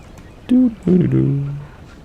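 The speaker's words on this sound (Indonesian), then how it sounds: "Burung itu burung." Birds call in Assassin's Creed Rogue, a game set in the North Atlantic, giving two close honking, goose-like squawks, the second drawn out and falling.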